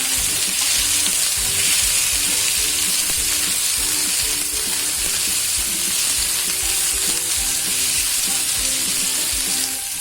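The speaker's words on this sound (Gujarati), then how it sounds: "હવે આપણે ટામેટું ખડા મસાલા બધા છે તે બધું નાખી દઈશું." Chopped tomato, a piece of fresh ginger and whole spices frying in a pan for a sweet corn sabzi, giving a loud, continuous hiss and crackle close by with no speech.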